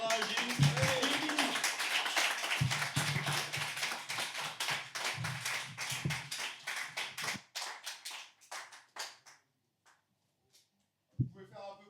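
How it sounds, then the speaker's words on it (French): A live audience at a concert in Toulon applauds loudly, dense clapping and some cheering for about seven seconds before thinning into scattered claps, a pause, and a final single clap. "je vous demande d'applaudir très très fort et de l'encourager"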